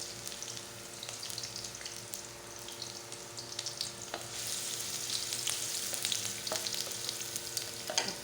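Sliced fresh ginger sautéing in a pan for a crab and squash coconut dish, a steady close sizzle with scattered crackles and occasional stirring scrapes, no voices.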